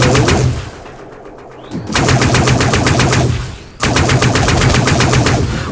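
Pistol gunfire in the video game Dust 514 comes in three loud, rapid bursts of fast repeated shots, each separated by a short quieter gap, close and harsh with no voices.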